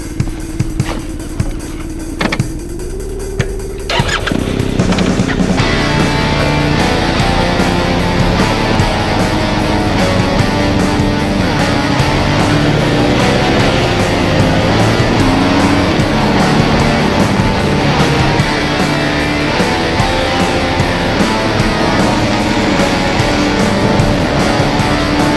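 Riding a motorcycle with a camera mounted on the bike: after a few quieter seconds, a loud, continuous roar of engine and rushing wind fills the rest of the ride.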